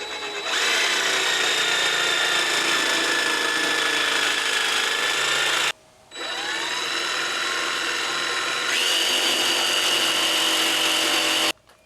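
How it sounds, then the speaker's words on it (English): Jigsaw fitted with a fast clean-cut blade trimming a fiberglass edge on a sailboat restoration, loud buzzing bursts of cutting with a brief pause midway, then a second long run, no talking. "What I'm using is a fast and clean blade on the jigsaw to basically just cut and trim the edge."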